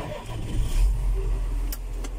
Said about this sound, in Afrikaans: Trekker start ongelooflik lekker maklik